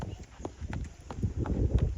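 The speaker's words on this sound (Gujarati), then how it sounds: "હા ઘોડો." Horse hooves clip-clopping outdoors, a quick uneven run of soft thuds up close, partly masked by low rumbling background noise and a nearby voice.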